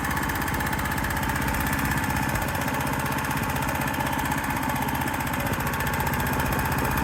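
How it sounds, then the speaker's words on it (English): A Predator small engine fitted to a Troy-Bilt tiller idles with a steady, loud, rattling chug that runs continuously and alone. "Put this on idle, turn your gas off, and let it run out of gas."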